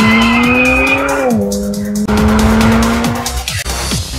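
A 2012 Alpina BMW B3 GT3 race car's exhaust roars loudly and steadily at high revs while driving, the pitch dipping briefly with a gear change before climbing again, with sharp transient crackles along the way.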